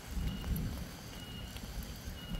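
Steady rain falls at a pine forest campsite in Lembang, Bandung, a dense, continuous hiss with a low rumble underneath, close and fairly loud throughout, with no voices.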